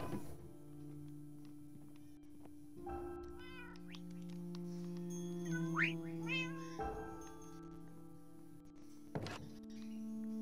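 Cartoonish cat meows in a video game, several short rising calls over a steady synthesized music bed, with a soft thunk near the end; no talking.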